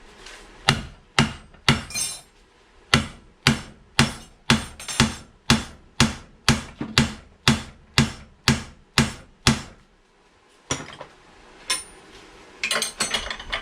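Metal hammering while a car control arm bushing is replaced by hand without a press: about twenty sharp, ringing blows in a steady rhythm, then a short pause before scraping and a few lighter knocks, loud and close.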